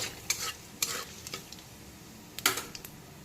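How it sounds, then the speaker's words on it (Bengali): Onion paste frying in oil with cumin, nigella seeds and bay leaf: a soft steady sizzle broken by a few sharp scraping stirs of a spatula against the pan, close and moderately loud, with no voices. "সবার প্রথমে পেঁয়াজের পেস্টটাকে খুব ভালো করে ভেজে নেব।"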